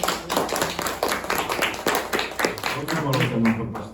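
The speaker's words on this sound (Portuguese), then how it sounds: "Palmas para Jesus." A church congregation claps for Jesus in rhythmic, steady handclaps, loud and close, mixed with voices talking and singing throughout.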